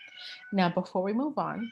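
A pet cat meows in the background, a faint high cry at the start, then heard softly beneath a close voice speaking.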